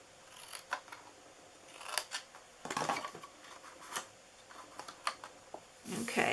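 Scissors snip through a paper cookie box template in a handful of short, crisp cuts spaced irregularly, close and fairly quiet, with a longer rustling cut at the end.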